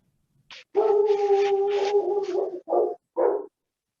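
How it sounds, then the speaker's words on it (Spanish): A dog nearby gives a drawn-out, howling bark that holds for nearly two seconds, then two shorter yelps follow, all loud and clear with no talking over them. "Alguien está ladrando, un perro por ahí."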